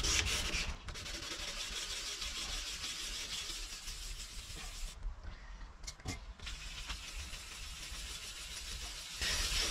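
Continuous abrasive rubbing of sanding on the edge of a car headlight, a steady gritty hiss with a few brief pauses, close up.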